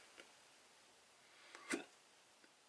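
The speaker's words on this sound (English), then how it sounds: "I got the hiccups." A single short hiccup from a man, faint and nearby in a quiet room, followed by a few soft breathy sounds.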